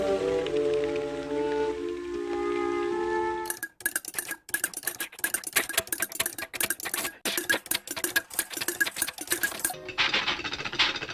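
A rotating drum packed with finishing nails on strips and handfuls of Mexican peas rattles in uneven, crackling bursts like pattering rain, following a few seconds of sustained tonal sound.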